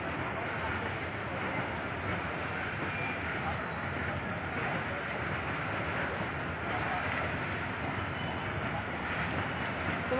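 A coal train passes at night near a station as a continuous, steady rumble mixed with wind-like noise for about ten seconds, with voices faintly underneath.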